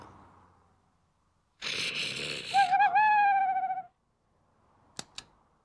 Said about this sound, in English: It's only an owl, Dig, said Doug.